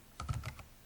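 A short quick run of computer keyboard keystrokes, four or five soft clicks in under half a second, close but quiet, with no voices.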